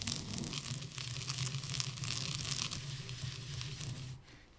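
Freshly grilled ingredients for vegetarian ramen are crushed with a steady, close, dry crunching and crackling that continues without pause before stopping abruptly near the end.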